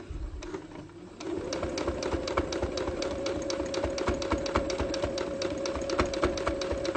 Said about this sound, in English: We're gonna back stitch so it doesn't come undone.